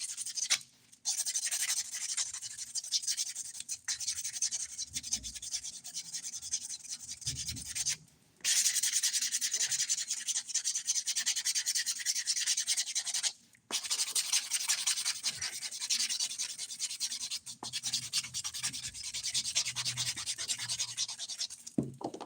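A buffer scrubs back and forth over fingernails during a DIY dip powder manicure, a close, steady rasping rub in repeated strokes with a few brief pauses.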